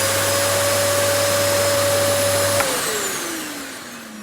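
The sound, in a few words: vacuum cleaner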